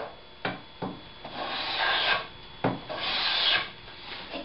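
A hand plane trims a rabbet in wood held on a sticking board, making several close, short scraping strokes, a few quick and some longer and more drawn out.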